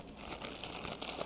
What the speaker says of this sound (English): I have to put it in this plastic bag